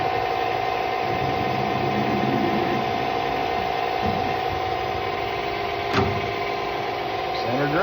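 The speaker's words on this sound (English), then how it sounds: "make sure your chuck is seated in the spindle, and we'll center drill" Enco lathe center drilling a machined hub, with a steady motor hum and tonal whine running throughout, a brief metallic tick near the end and a slight rise at the close, continuous and moderately loud.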